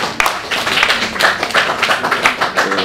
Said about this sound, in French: je vous demande d'applaudir très très fort